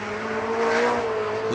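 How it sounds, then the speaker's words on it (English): An LS-powered S14.5 drift car engine revs hard during drift competition qualifying and holds a loud, raspy exhaust note, rising slightly in pitch over a second or so. "Listen to that exhaust note, Ryan."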